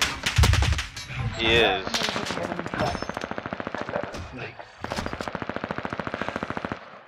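Rapid automatic gunfire rattles in repeated bursts from a distant tower in the video game Warzone, sharp and loud in the foreground while players talk over the shooting.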